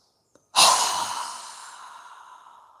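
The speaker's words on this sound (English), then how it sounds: "exhale with a strong breath with our mouth open wide" A single strong exhale pushed out through a wide-open mouth during yoga breathing, loud and close, fading away gradually over two seconds after a faint click.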